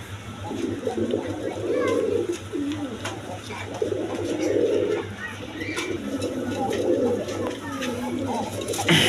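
Lahori pigeons coo repeatedly in soft, rolling bursts, close by and steady, while someone talks over them and a low hum runs underneath.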